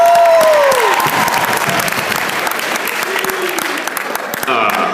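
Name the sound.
comedy club audience applause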